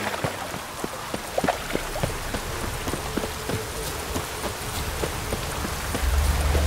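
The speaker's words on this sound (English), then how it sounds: "Witches have conjured rain." Rain patters steadily in the video game The Witcher 3, a continuous close hiss of drops on surfaces with scattered sharper splashes and a low rumble swelling near the end.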